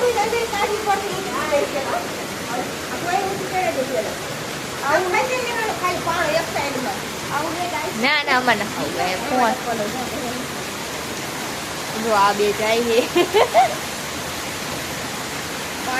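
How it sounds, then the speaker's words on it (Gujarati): Heavy rain pours in a constant dense wash of noise while several people talk over it. "અને જુઓ કેટલો વરસાદ આવે છે."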